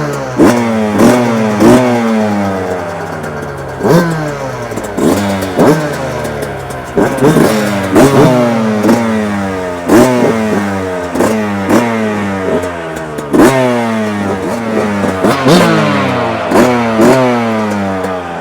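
Yamaha YZ85 dirt bike engines revving hard in repeated rising bursts, loud and close, several two-stroke bikes blipping throttles one after another with sharp climbing whine over about eighteen seconds.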